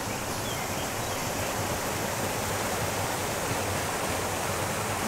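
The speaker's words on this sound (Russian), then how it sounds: "Вот видите, падает вода." Water from a small waterfall in the Vorontsov Palace park splashes and rushes in a steady, dense roar, fairly close and unbroken with no voices.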